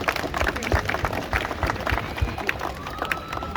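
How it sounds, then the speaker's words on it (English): Audience at a Kenya barista championship applauds the judging panel, scattered and uneven clapping with crowd noise that rises and dips over a few seconds. "So big round of applause for our panel of judges."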